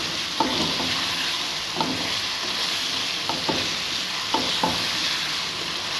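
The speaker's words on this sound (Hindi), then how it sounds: "और इसे अभी पकाएंगे 3 से 4 मिनट और।" Chicken and peas cook in a pan for a chicken matar salan, with a steady soft sizzle and occasional light clinks of a spoon stirring, close and unaccompanied by talk.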